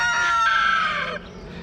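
Homestead chickens making a drawn-out, crow-like cluck while scratching through fallen leaves, close and fairly loud, a single call that trails off into quiet ground noise.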